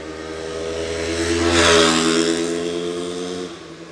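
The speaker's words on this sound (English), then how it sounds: "all the boys going by and their KTMs, their Penton KTMs back in the day, making that same exact sound" A 1973 Penton KTM Hare Scrambler 250 two-stroke engine revs up and settles back, a raspy, steady drone that swells to a peak midway and then eases, heard close without talk.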